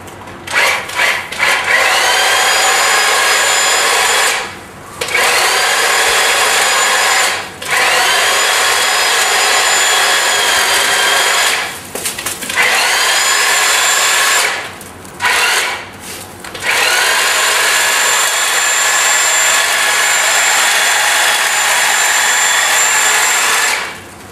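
A Ryobi electric hedge trimmer cuts through a hedge with a loud, steady motor whine and blade chatter, running in long bursts broken by several short pauses, with no talk.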